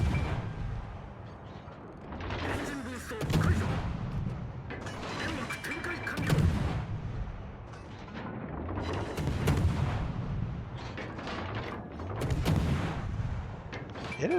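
Ship guns boom in a naval video game as the destroyer Kitakaze fires at a distant destroyer, with repeated heavy salvos rolling over a steady mechanical engine drone at moderate level.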